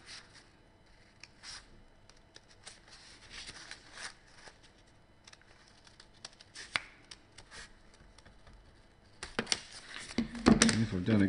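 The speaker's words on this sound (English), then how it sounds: "And with my scissors, I can cut it out." Scissors snip through paper folded into quarters, a few soft, quiet cuts and rustles that end with louder paper handling close by.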